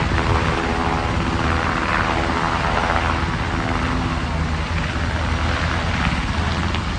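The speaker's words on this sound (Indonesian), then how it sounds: "Di sini ada helikopter teman-teman." A toy helicopter gives off a loud, steady whirring drone, close and unbroken for the whole stretch, with a faint rattling texture in it.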